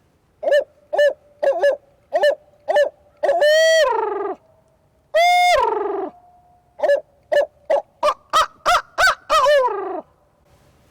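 A voice imitates a barred-owl hoot as a spring turkey-hunting locator call, giving loud, close rhythmic series of hooting syllables with a few drawn-out, rising-falling notes and a cackling run near the end, with no other sound between phrases.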